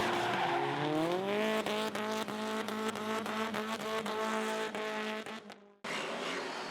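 Drift cars in a tandem competition sliding through a track hairpin, with long, loud, wavering tire squeal over engine tone that breaks off abruptly near the end, followed by a faint wash of background noise.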